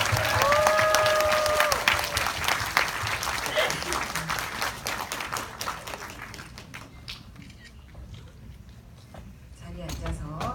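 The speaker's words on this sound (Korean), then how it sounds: "큰 박수로 두 분 맞이해 주세요." A packed cinema audience at a film screening event claps and cheers to welcome the director and lead actor, loud and full at first, then thinning out and fading toward the end.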